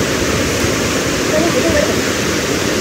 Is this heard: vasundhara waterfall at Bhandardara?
yes